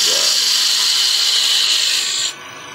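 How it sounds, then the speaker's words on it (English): Wood lathe spinning a block while a parting tool squares off its end, a loud, steady high-pitched whine that drops off abruptly near the end. "one of the first things I like to do when making the tenon is square off"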